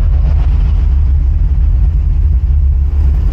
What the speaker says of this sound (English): Can you hear the exhaust nicely?